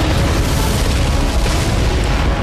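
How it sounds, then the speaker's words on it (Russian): Dense, continuous rumbling of explosions and gunfire from a World War II tank battle in Normandy, loud and unbroken throughout. "Звуки выстрелов, взрывы, вспышки."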